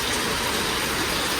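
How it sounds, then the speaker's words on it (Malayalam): Heavy rain pours down at night in a short, loud, even wash of hiss without any voices. "മഴ സീസൺ ആയല്ലോ കണ്ടോ കാണൂലെന്ന് തോന്നുന്നു തകർത്ത് വാരി പെയ്യുന്നുണ്ട്"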